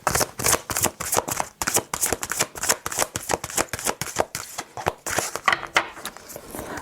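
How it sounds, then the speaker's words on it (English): A deck of chakra oracle cards is riffled and shuffled by hand, giving a rapid run of crisp papery flicks and slaps that continues without a break. "I'm just going to pull a chakra card"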